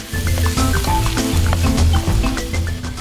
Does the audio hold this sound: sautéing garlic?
yes